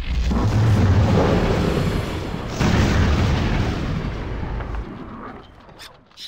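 Hilda's arrow attack during a battle against orcs in King's Bounty: Warriors of the North, heard as loud, deep booming impacts with a rumbling burst that tails off toward the end.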